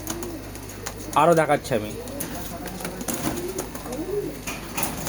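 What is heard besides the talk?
pigeons cooing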